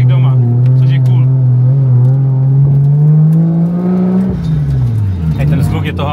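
A car engine drones loudly, climbing steadily in pitch as it revs, then drops off and rises again; voices talk faintly underneath.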